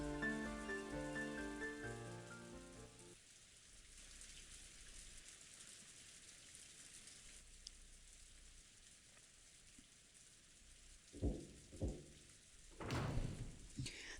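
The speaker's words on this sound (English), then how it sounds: "So the rain's not getting better then." Steady rain beating against a window, a soft continuous wash, in the Umineko visual novel. Music fills the opening seconds, then the rain continues alone, with a few soft thumps near the end.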